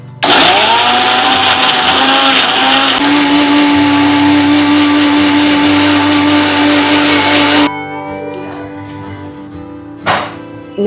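A Preethi Sodiac mixer grinder running, a loud steady high-pitched motor whine with grinding that holds for about seven seconds and then cuts off, followed by quieter clatter and a brief knock.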